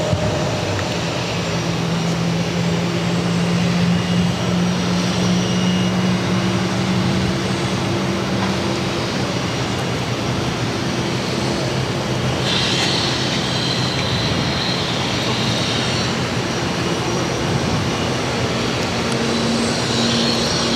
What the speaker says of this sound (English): The A330 landing, catching that American 737.